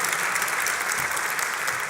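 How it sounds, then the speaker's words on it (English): Audience applause greets guests onto a stage at a panel event, sustained dense clapping throughout with no voices. "Big round of applause."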